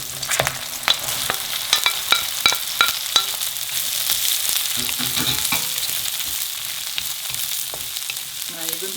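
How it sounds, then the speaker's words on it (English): Onions sautéing in a pan with ginger, garlic and whole seeds make a steady bright sizzle. Quick utensil taps and stirring scrapes come early, close by, and no one speaks. "Now you're going to just saute the onions till they're translucent"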